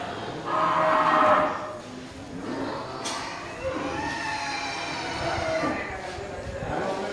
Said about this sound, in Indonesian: seperti satu ekor sapi berangus di depan kita